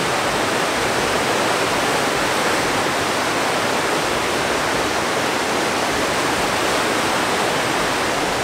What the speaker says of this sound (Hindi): पानी की आवाज़ सुन के ही बड़ा डर लग रहा है